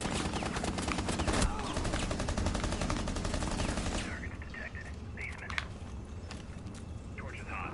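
Rapid automatic gunfire from the video game Rainbow Six Siege rattles loudly and steadily for about four seconds, then thins to scattered shots and game noise while players talk.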